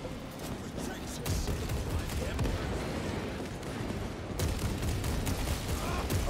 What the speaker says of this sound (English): Yeah, this gun sounds just wonderful.